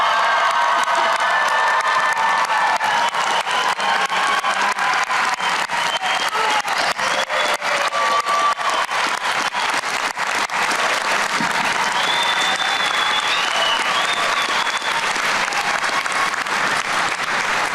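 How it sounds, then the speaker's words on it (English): Graduation ceremony audience for the Western Piedmont graduating class of 2024 applauds the new graduates with loud, sustained clapping and scattered cheers and whoops throughout. "Audience, please stand and applaud our new graduates."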